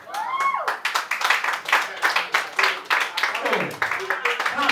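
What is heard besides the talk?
audience applause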